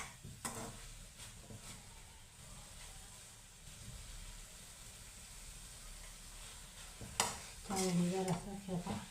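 Coconut barfi mixture with cardamom powder stirred in a pan, faint scraping and soft sizzling with a few sharper clinks of the spoon against the pan.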